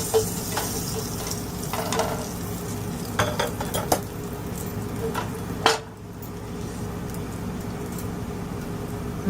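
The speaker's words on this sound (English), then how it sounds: "I think the cumin seed is roasted. Maybe a few more seconds. The oil is really hot." Cumin seeds and okra sizzle steadily in very hot oil in a pan, a constant close frying hiss broken by a few utensil clinks and stirring scrapes.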